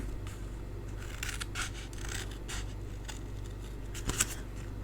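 Scissors snip through folded cardstock, two sheets at a time, in a steady run of soft, close cuts with a sharper snip near the end; no one speaks.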